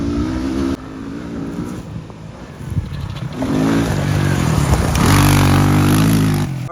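Beginner quad bikes from the 1980s to today, including a 1996 Yamaha Blaster 200cc air-cooled, idle and rev loudly close by, with the engine pitch rising and falling across several throttle blips.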